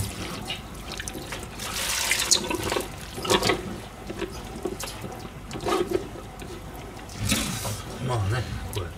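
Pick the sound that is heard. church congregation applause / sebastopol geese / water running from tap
water running from tap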